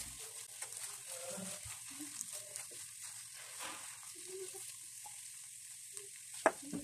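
Chicken masala frying in a pan with coriander leaves just stirred in, a steady soft sizzle running throughout with occasional light stirring clicks and one sharp tap near the end.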